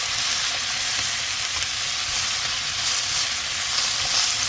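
Vegetables for a squid stir-fry with radish sizzle steadily in a hot pan, a dense continuous frying hiss with faint stirring knocks, close and without talk.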